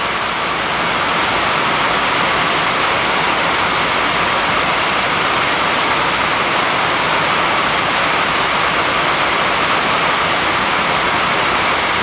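Rain falls steadily, a loud, dense, unbroken rushing hiss that stays even and close for the whole stretch with no voices.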